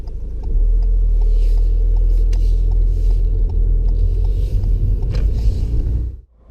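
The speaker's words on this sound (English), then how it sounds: "When the engine gets louder and sounds like it's working a bit too hard, change gear." Manual car engine running while driving, a loud, steady low rumble heard from inside the cabin, holding constant before dropping away abruptly at the end.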